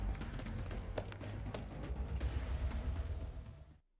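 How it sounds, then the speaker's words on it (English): Hard rain pours down in a steady, dense patter with scattered sharper taps, fairly quiet and heard alone, before cutting off abruptly at the end. "On his head, a hard rain is pouring down"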